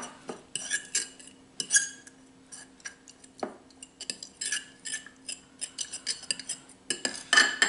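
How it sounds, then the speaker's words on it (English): A metal fork clinks and scrapes against a dish while mashing a green grilled cheese filling with reduced milk, in irregular close taps and scrapes with no talking. "So I'm gonna take a new fork. I'm gonna mash all this together."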